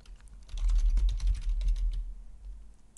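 Rapid clicking keystrokes on a computer keyboard, a short burst of typing that trails off, close and clear.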